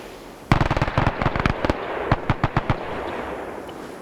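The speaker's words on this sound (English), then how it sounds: "I don't know what these guys are shooting at. I think they're blindly shooting at each other." Gunfire from soldiers in a WW2 video game set around Guadalcanal, as a rapid string of sharp cracks followed by a sparser run of single shots that fades toward the end, moderately loud against a quiet background.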